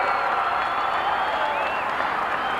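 Dense, steady crowd roar from the Stoughton cheering section at the 1980 Wisconsin state wrestling finals, a loud unbroken wash of cheering and clapping filling a large arena, with no single voice standing out.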